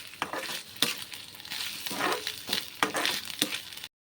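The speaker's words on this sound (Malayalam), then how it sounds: "നമുക്ക് ഇതിനകത്ത് മുളക് ഇട്ട് കൊടുക്കാം അതിൻ്റെ കൂടെ തന്നെ നമ്മൾ ഈ തേങ്ങയും ഇട്ട് മൂപ്പിക്കാം" Coconut and chillies frying and being stirred in a pan for a Kerala erissery, giving a close, steady sizzle with repeated sharp scrapes and clacks of the spoon throughout, no voices.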